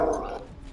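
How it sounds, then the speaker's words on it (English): A dog in the video game Baldur's Gate 3 gives a single short bark or yelp that fades quickly into a low background hum. "Key, stop barking!"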